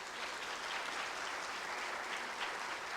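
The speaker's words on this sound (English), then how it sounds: "Everybody give her applaud for that too." An audience at a Hmong community event applauds steadily, a dense, even wash of clapping that continues without break for the whole stretch.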